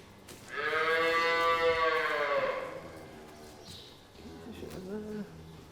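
Dairy cows waiting to go into the milking parlour give one long, loud, close moo, and after a pause a second, fainter low call follows.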